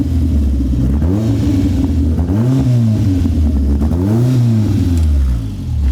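A Ford Cortina touring car engine revs repeatedly, loud and close, with a deep rumbling idle between rising and falling blips of the throttle.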